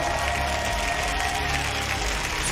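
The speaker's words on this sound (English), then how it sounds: "please, your applause for the fallen opponents, Evil Geniuses" A packed esports arena crowd at a Rainbow Six Siege final claps steadily for runners-up Evil Geniuses, a dense, even wash of applause with no breaks across the whole stretch.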